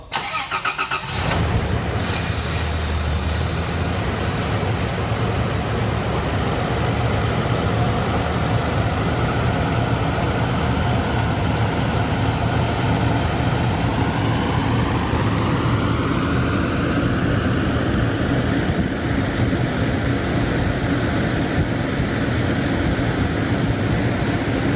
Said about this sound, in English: So here we go with a 0 mile cold start, no warm up.